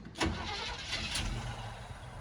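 A 1975 Chevy C10 pickup truck engine cranks and catches with a sharp burst, then settles into a steady idle, fairly quiet and close.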